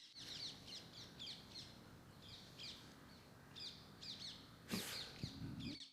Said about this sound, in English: the birds actually that were chirping